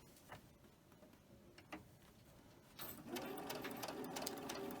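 Sewing machine chain stitching four fabric pieces together: faint ticks and handling at first, then a steady rapid stitching whir rising and running to the end.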